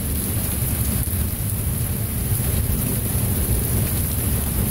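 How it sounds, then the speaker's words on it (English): Heavy thunderstorm in Minneapolis with steady, dense rain and a continuous low rumble of rolling thunder, loud and unbroken throughout, no talking. "It's like a rolling thunder."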